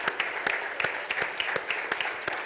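An audience at a corporate e-commerce presentation applauds the team, a steady stream of sharp, rhythmic claps from a sizable group lasting the whole stretch, fairly loud and close.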